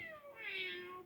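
A single cat gives a short, clear meow with a rising then falling tone, close and fairly quiet, with no one talking.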